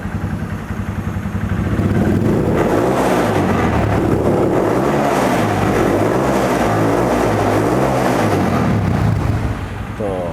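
A custom bobber-style Yamaha Verza motorcycle engine rumbles loudly up close, revving in throbbing pulses before settling back and cutting off near the end.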